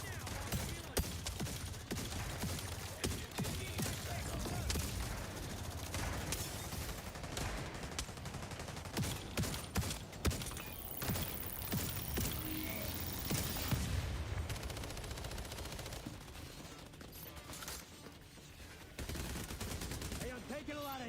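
Rapid video-game gunfire with sustained bursts and booms fills the stretch loudly and almost continuously, with busy mechanical clatter and a voice occasionally speaking over the shooting.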